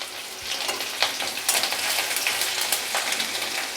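Onions sizzle in a hot pan with chopped green chilli and ginger paste for a veg steamed momo filling, a loud, continuous crackling fry broken by occasional stirring clicks.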